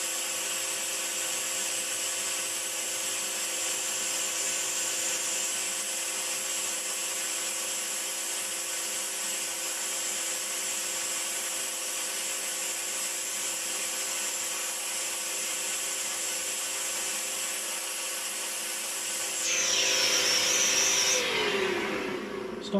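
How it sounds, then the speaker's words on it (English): A vacuum vinyl record cleaning machine makes a steady mechanical whine and suction drone continuously for a long stretch, shifting pitch briefly near the end as it winds down. "Stop the vacuum cleaner,"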